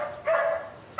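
A dog gives a drawn-out bark or yelp in an indoor scene from a romantic drama, clear and fairly close, followed by the sharp onset of another bark at the very end.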